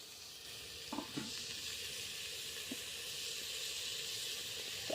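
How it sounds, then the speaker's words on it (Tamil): Tomatoes sauté in a hot oiled pan for a broiler chicken curry (kulambu), giving a steady close sizzle with a few soft stirring clicks and no voices. "அந்த தக்காளி வந்து நம்ம சேர்த்துக்கலாம் இப்போ தக்காளி இப்போ வதக்கிடலாம்"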